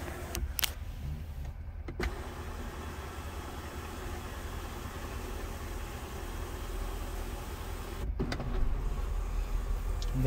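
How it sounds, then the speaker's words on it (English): A power moonroof on a 2022 Ford F-250 Lariat Tremor opens with a steady, low electric motor hum inside the cab, framed by brief clicks near the start and end. "There it is, the moonroof."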